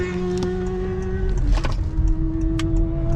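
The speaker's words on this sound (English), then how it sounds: "the engine just came on, and I'm going to engage sport mode" A 2018 Honda Clarity's 1.5-liter gas engine kicks on while the car accelerates, a steady tonal hum that shifts pitch midway, heard from inside the cabin over road noise.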